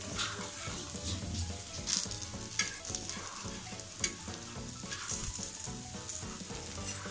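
Activated charcoal dosa batter frying and crisping on a hot pan, a steady close sizzle with light scraping and clinks running throughout, no voices.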